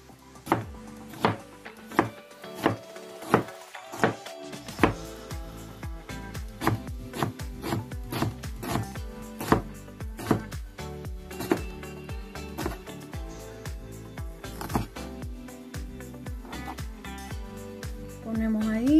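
Onion chopped with a knife on a wooden board in a home kitchen, a steady run of close, sharp knocks and slices repeating quickly, with background music-like tones beneath.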